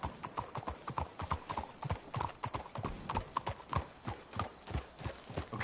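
Horses' hooves in Red Dead Redemption 2, a rapid uneven clip-clop of several animals on the move, continuous and moderately loud, with no voices.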